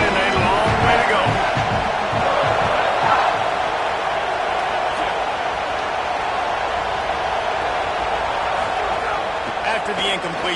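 Home crowd at a Tennessee football game roaring loudly and steadily in a packed stadium, a dense sustained wall of cheering with a broadcast commentator talking over it.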